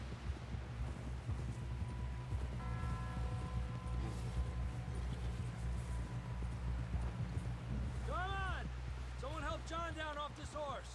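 Hooves of a horse clip-clopping in a steady rhythm in the Western video game Red Dead Redemption 2, with a low game-score drone beneath and a brief horse whinny near the end.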